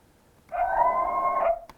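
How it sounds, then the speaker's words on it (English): A single coyote howl sample used in a beat, one sustained wavering tonal cry of about a second, loud and clean against near silence. "So let's start off with this Coyote sound."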